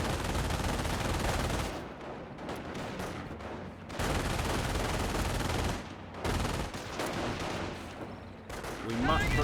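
Rapid gunfire crackles in a Company of Heroes 1 battle, bursts of machine-gun and rifle shots in dense clusters with short gaps, mixed with someone talking throughout.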